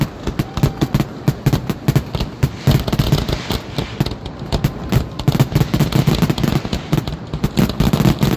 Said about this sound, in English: That's a fireworks show.